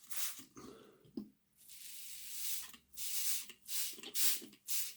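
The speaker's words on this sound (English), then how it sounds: "I'm just going to spray some water on this." A handheld sprayer misting water onto glued model coal over painted polystyrene on a Hornby 0-4-0 tank locomotive model, a series of close hissing spray bursts separated by brief pauses.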